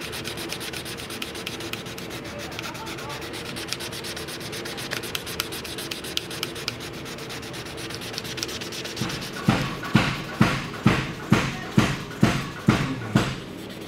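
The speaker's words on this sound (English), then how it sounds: "So I'm just using that to back my sandpaper here so I get a nice even finish." A knife handle is sanded with sandpaper backed by foam, giving a steady close rubbing that shifts partway through into a run of evenly spaced, louder strokes, each one a distinct rasping pass.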